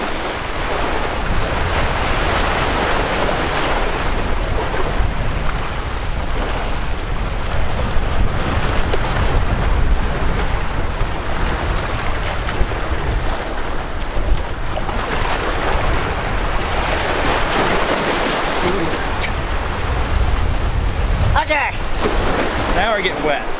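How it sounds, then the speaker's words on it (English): Surf crashing hard on rocks along the Aegean Sea, a loud, continuous roar of breaking waves close to the microphone with gusts of wind buffeting it and a voice speaking over it. "the surf is coming in quite hard"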